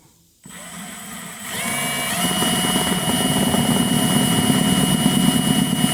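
An electric drill starts after a brief quiet, spinning up slowly and then grinding steadily as it bores through fiberglass on a boat, getting slightly louder.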